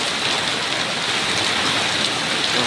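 Heavy afternoon rain driven by strong wind in a thunderstorm, a dense, steady hiss and roar that stays loud and close for the whole stretch, with no voices.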